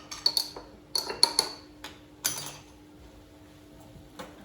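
Salad being tossed in a bowl with a spoon, a cluster of light metallic clinks and scrapes early on, then scattered quieter taps, close and without talk.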